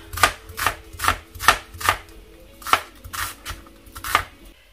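A knife chops vegetables on a board in a home kitchen, around nine crisp, evenly paced strokes, close and loud, with no talk.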